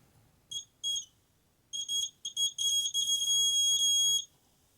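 A small electric buzzer powered by a 3-volt battery gives a shrill, high-pitched tone in several short bursts, then one longer sustained buzz, fairly close and with no talking.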